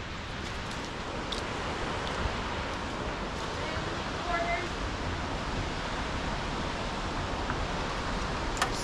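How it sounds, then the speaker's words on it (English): A waterfall in the Smoky Mountains, heard from a bridge over a deep gorge: a steady, dense roar of falling water fills the whole clip at an even level, with a few faint clicks and no talking. "Oh, that nice waterfall."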